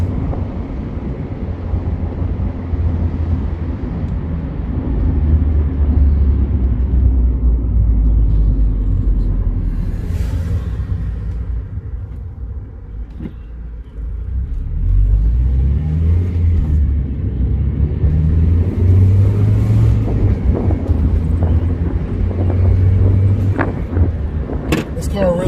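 A Mazda NA Miata convertible drives with the top down, its engine a low steady rumble under wind buffeting. It eases off midway, then builds again, and a voice talks over it.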